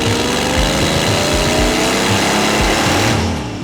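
An unhealthy V8 in a big luxury car runs with a catastrophic blow, giving a loud, rough drone with uneven low thumping pulses, close and alone.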